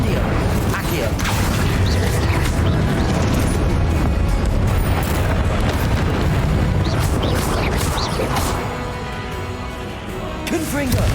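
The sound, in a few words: Confringo and Incendio spell explosions in video game Hogwarts Legacy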